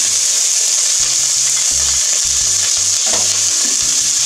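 Onion frying in hot oil in a pan for red chilaquiles, a loud steady sizzle running throughout with occasional stirring scrapes, no voices.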